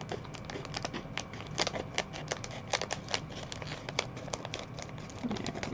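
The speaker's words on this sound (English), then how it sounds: "There's the fun of watching somebody use scissors." Scissors snipping and crinkling through Kracie Tanoshii Donuts Japanese DIY candy kit packaging, a steady patter of small cuts and rustles at close range with no talking.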